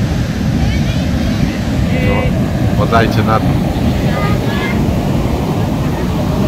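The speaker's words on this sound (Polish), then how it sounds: "Tak się ocean wkurzył, że normalnie zobaczcie jakie fale." Rough Indian Ocean surf and strong wind at an Indonesian beach make a constant loud roar, with brief voices heard partway through.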